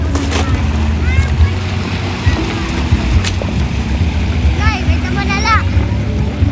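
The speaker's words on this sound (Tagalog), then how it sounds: "Takot po si Janle sa bangka." A small fishing boat in the province moves across open water with a continuous engine drone, wind buffeting and splashing waves. Voices can be heard over the noise.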